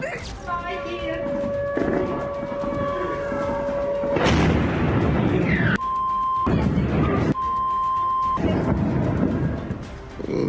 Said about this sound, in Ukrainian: чутно черги з вогнепальної зброї та вибухи